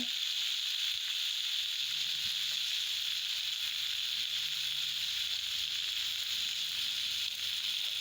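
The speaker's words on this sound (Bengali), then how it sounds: "তারপরে আদা রসুন পেঁয়াজ একসাথে দিয়ে দেব। দিয়ে ভালো করে কষবো।" Potato, onion, ginger and garlic sauté in a hot pan with a steady, close sizzle and crackle that holds evenly throughout, with no talking.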